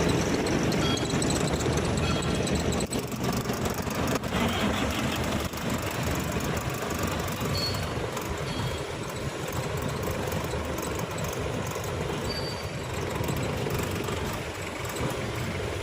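A Komatsu PC120-1 excavator engine runs at a steady, rough idle with a faint knocking texture, heard up close and continuously with no one talking.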